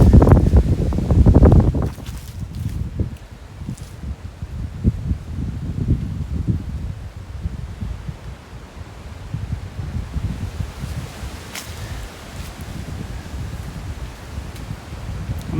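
Wind gusts buffet the microphone outdoors beside an old railway track, a loud low rumble at the start that settles into a steady, rustling blustery roar for the rest of the stretch.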